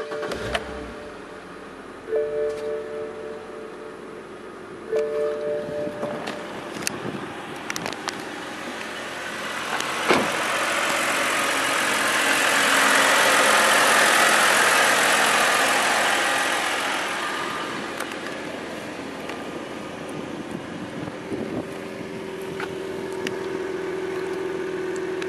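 A 2011 BMW 128i cranks and starts, then settles into a steady idle, with a louder swell midway and small clicks and knocks around it; no one speaks.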